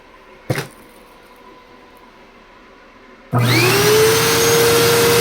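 A used vacuum cleaner with weak suction and a straining motor switches on after a single knock, then runs loud and steady with a rising whine that settles into a constant hum.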